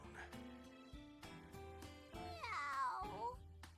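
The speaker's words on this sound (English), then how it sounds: "That a cat I hear?" A cat meows in the video game BlazBlue, a drawn-out wavering mew in the middle over game music and a low spoken voice.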